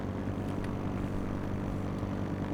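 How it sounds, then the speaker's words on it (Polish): A helicopter flying in the game H1Z1 gives a steady, unbroken engine and rotor drone that fills the whole stretch at an even level, with no voices. "Gdzie ten helikopter?"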